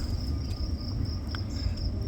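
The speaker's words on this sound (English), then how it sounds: "Wow, full of cicadas in here too." Cicadas buzz in a thick rye food plot, a steady faint high drone over low rumbling outdoor background, with no talking.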